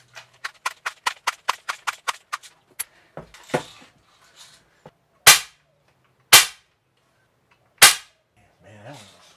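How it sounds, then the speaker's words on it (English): A Crosman 760 BB gun, pumped ten times and firing copperhead BBs at a paper target, gives three loud sharp cracks spaced about a second apart, preceded by a quick series of rhythmic clicking pumps. "shooting from the same position, but this time I'm using copperhead BBs"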